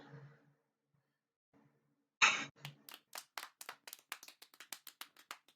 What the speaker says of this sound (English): the game's like clapping sound effect was weirdly like even more awkward than my own